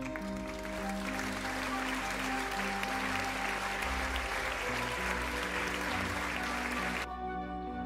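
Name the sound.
applause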